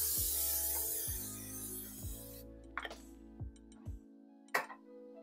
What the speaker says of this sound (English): spray the bottom of your dish